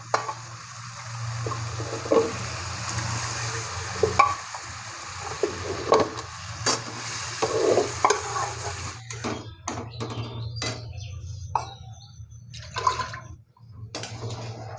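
Boiled peas and potatoes stirred into a frying spice paste for a paneer and pea curry, giving sizzling and scraping stirs with intermittent clatter over a steady low hum, with no talking.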